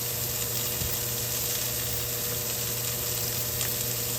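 Ham burger patties sizzle on a grill in a steady, dense hiss that stays loud and unbroken throughout, close up with faint crackles.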